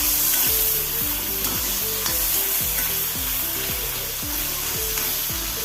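Dried shark fish fries in a hot pan, crackling and sizzling loudly up close while something is stirred or scraped in a steady repeating rhythm.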